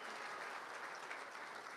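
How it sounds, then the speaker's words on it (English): Sustained applause from an audience at a county high school football team MVP awards event, steady and full with no talk over it. "How about a nice round of applause for all of our team MVPs as selected by their coaches this year?"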